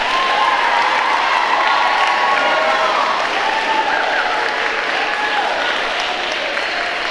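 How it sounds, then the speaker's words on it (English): Sustained applause from an audience at a junior high school awards program, honoring the teachers; dense, steady clapping fills the room at even volume throughout, with faint crowd murmur beneath. "let's give our teachers a big round of applause."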